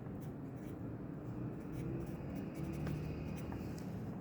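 A pen scratches across paper in continuous close strokes, writing out a message, with a faint steady room hum underneath and no speech.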